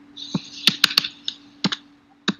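Typing on a computer keyboard: a handful of crisp, irregular keystroke clicks, close and fairly clear, with a faint steady hum underneath and no speech.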